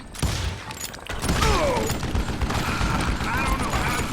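Rapid, dense gunfire from the Western shooter Call of Juarez, a sustained volley of shots that starts abruptly and continues steadily at close range, with game voices and talk mixed in throughout.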